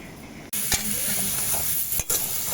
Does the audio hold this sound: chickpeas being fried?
yes